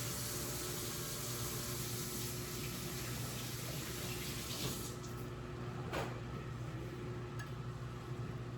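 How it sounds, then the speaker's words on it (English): Hands are washed under a running kitchen tap, and the water pours in a steady, quiet stream throughout, with a few faint splashes and no talking. "let me wash my hands."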